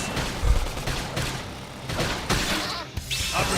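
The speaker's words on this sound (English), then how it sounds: "Gunfire." Dense, chaotic combat audio from the video game Xenoblade Chronicles X, with repeated bursts of gunfire and impacts piling up over a busy, continuous mix.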